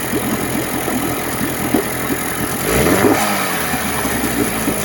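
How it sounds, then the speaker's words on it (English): A small Mercury two-stroke outboard motor idles steadily with a low, even rumble. About midway the engine note briefly shifts and swells before settling back to idle. "I've left this thing running for half an hour here at idle. Runs great."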